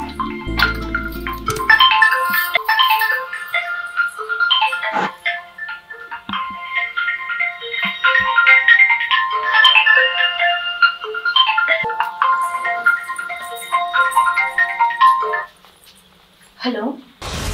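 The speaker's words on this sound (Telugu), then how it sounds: "నీకేదో ఫోన్ వస్తుంది చూడు." A mobile phone rings with an incoming call in a domestic drama scene, its melodic electronic ringtone repeating steadily for around thirteen seconds while people talk over it.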